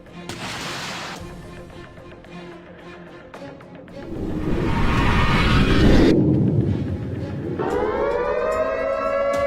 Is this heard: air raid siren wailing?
yes